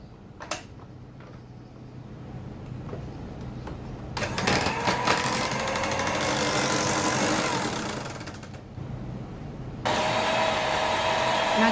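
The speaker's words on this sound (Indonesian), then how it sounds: "Kita juga akan memasukkan gula halus ya. Sekarang kita akan mixer ya." An electric hand mixer beats nastar cookie dough with powdered sugar, its motor whirring steadily and close, rising louder partway through and continuing alone without talk.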